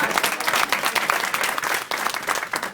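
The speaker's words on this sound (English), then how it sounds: "Clap, come on." A convention crowd at a women's Republican gathering bursts into applause, a dense, lively clatter of many hands with rhythmic surges and faint voices mixed in.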